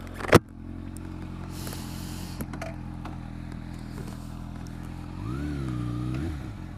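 A 2013 Kawasaki ZX6R sports motorcycle gives a sharp knock, then settles into a low, steady engine rumble close by. Near the end, the engine revs up and back down in a smooth swell.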